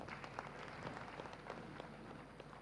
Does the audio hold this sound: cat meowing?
no